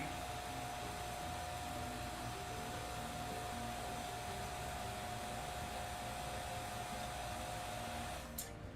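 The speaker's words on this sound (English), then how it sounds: "I'm gonna have to fucking flush out my vacuum pump." A vacuum pump runs steadily during a coffee brewing setup, a constant whirring hum with a sustained tonal whine that ends in a short click near the close.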